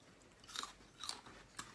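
Fresh apple, just picked from the tree and eaten with fermented fish dip, crunches in three crisp, close bites spaced about half a second apart, with no talking.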